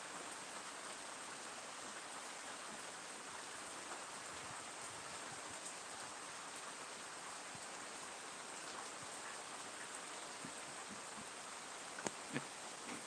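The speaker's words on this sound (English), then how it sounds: "Rain's getting heavier, but luckily the wind's getting lighter. So it's pouring right now" Heavy rain pours steadily outdoors, a dense, even hiss of falling water that runs unbroken throughout, with a couple of faint knocks near the end.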